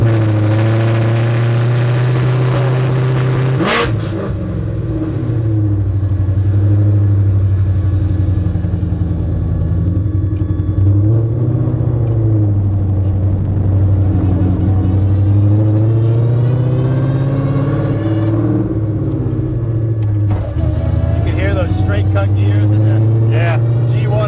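A Ford Fairmont Fox-body wagon with a 5.0 Coyote V8 drives along, its engine a loud, steady, deep rumble that holds throughout, rising and falling slightly in pitch.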